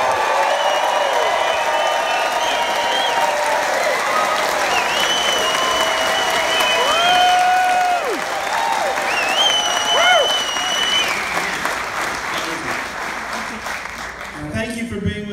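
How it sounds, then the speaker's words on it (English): Applause and cheering from a live audience at a radio broadcast, with a guest musician welcomed. The clapping runs steadily throughout, with whoops and shouts of voices layered on top. "Big round of applause, ladies and gentlemen,"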